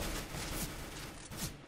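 Rapid gunfire from a CS:GO match, dense bursts of shots and impacts filling the whole moment, loud and continuous with no talking.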